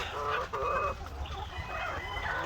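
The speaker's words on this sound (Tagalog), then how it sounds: "barred plymouth rock ang ganda nilang pagmasdan yung kulay din nila" Barred Plymouth Rock chickens cluck in a farm coop, a steady busy chatter of hens with overlapping calls, fairly close and continuous over background noise.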